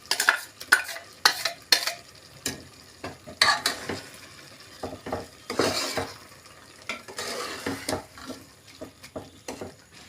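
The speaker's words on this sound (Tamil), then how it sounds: "அதில் சேர்த்துட்டு நல்லா கலந்து விட்டுடலாம்" A spoon scrapes and clatters against a pan as ground coconut is stirred into cooked snake gourd for a Tamil kootu, irregular close knocks over a soft simmering sizzle, no talking.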